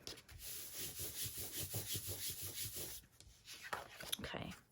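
A paper journaling card gets its edge trimmed up close, with quiet rhythmic scraping and rubbing strokes followed by a few softer snips.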